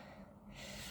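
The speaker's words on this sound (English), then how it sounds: "I say as I'm heavy breathing" Heavy, gasping breaths after a dumbbell workout with 10-pound weights, a single strong exhale swelling near the microphone and filling the short moment alone.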